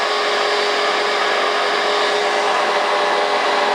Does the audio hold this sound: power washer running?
yes